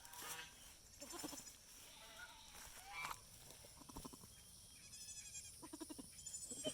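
Baby goats bleat repeatedly, several high wavering cries overlapping at close range, with short pauses between calls.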